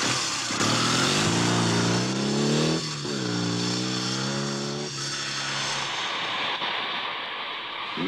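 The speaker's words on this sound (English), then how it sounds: "An old motorbike." A loud old motorbike engine runs close by, its pitch climbing and dropping as it revs through gear changes, a rough steady drone throughout with no voices.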